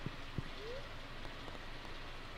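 Rain falls steadily in the farming video game Stardew Valley, a constant soft hiss broken by a couple of faint drop taps near the start.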